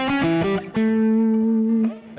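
Electric guitar played through a Fractal amp modeler set for a soupy Dumble-style tone: a few plucked notes, then a long sustained note ringing loud and alone with rich harmonics.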